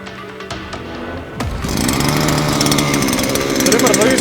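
A SILA BT 4400 petrol grass trimmer is pull-started about a third of the way in, then its small two-stroke engine runs loud and steady at a high buzzing pitch, with some talk over it.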